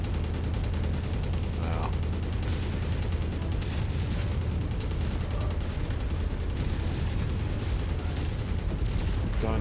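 MechWarrior 5: Mercenaries mech weapons fire in a dense, continuous roar of heavy blasts and booms, with a brief exclaimed voice partway through.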